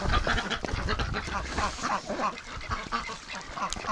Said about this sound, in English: Oh, look at the drakes. They're not wasting any time.